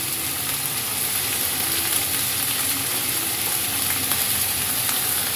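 Spring onion stalks frying in a pan, a loud steady sizzle and crackle of hot oil that runs throughout.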